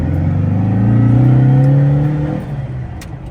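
A 1968 Porsche 912 engine heard from the passenger seat, revving up loudly with rising pitch as it pulls through a gear, then dropping off at the shift and settling into a lower drone.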